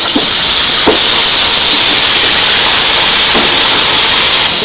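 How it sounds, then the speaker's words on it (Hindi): Beef frying in hot oil for Sindhi biryani, a loud continuous hissing sizzle close by, broken by a few brief clicks. "गोश्त को हम तेल पर जब तक भूनेंगे जब तक इसमें सफेद नहीं आ जाए"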